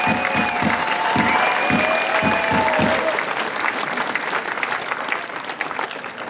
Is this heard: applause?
yes